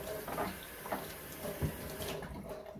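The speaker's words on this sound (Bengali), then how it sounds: "আদাটা আর একবার ধুয়ে নিলাম" Ginger is rinsed under running water from a tap, giving a steady, fairly quiet splash and trickle with small bursts as the pieces are turned in the stream.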